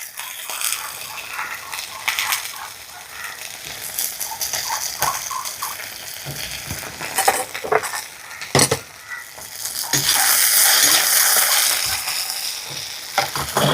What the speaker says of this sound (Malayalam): ഇപ്പോൾ തക്കാളി നമുക്ക് നന്നായിട്ടൊന്ന് വേവിച്ചെടുക്കണം